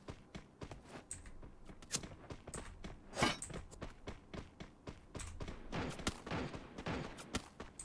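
Gunfire in the battle royale game Free Fire, rapid bursts of sharp shots and clicks in quick succession, fairly faint and dense across the whole stretch.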